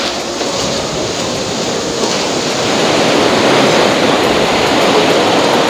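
Sea waves washing in at Digha beach, a broad steady roar of surf that swells louder in the second half, heard close with no talk.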